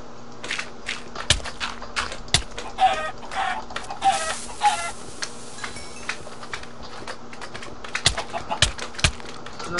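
A chicken clucks in a Hack/Mine elf-mage game, with a scatter of short sharp clucks and clicks spread across the scene at moderate loudness and no talking.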